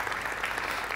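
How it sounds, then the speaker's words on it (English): Brief audience applause at a tech summit in London on commercial space, a steady wash of many hands clapping together at even loudness for about a second. "Round of applause."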